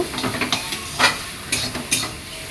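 Chow mein stirred in a hot pan, with quick, repeated scraping and tossing strokes over a continuous close sizzle, loud and busy, with no voices.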